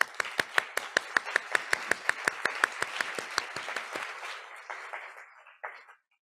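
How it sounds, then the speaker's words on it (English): A crowd applauds loudly for speakers and moderators at a healthy aging forum, sharp, rapid claps for about four seconds, then the clapping thins out and fades to scattered claps. "Let's have another big round of applause for our speakers and moderators."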